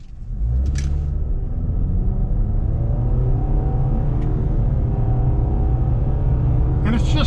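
A 2025 Nissan Sentra SR with a non-turbo 2-liter inline 4 pulls away, its engine droning in a steady, moderately loud rumble that builds gently as it accelerates, heard from inside the cabin.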